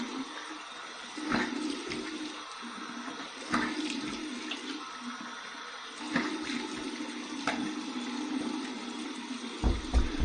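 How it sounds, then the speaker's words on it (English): Cold water runs steadily from a bathroom tap for a face rinse after a safety-razor shave, a continuous close rushing flow with splashes and brief surges as hands dip in and out. "I flipped it to the cold water side. Here's my cold water rinse."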